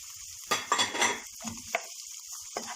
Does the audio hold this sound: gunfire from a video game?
no